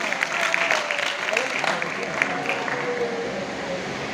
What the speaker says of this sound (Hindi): जोड़ा तालियों का स्वागत है